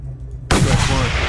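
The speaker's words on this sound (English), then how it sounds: "I could take them out with a sniper rifle." A sniper rifle called the Long Shot fires a single sharp, loud shot in the Mad Max video game, bursting in abruptly after a quiet low hum and ringing out with a broad decaying tail.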